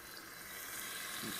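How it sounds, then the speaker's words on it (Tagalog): Water pours into a cooking pot in a kitchen, a soft, steady splashing stream that grows slightly louder toward the end, with no voices. "Lagyan natin muna ng tubig."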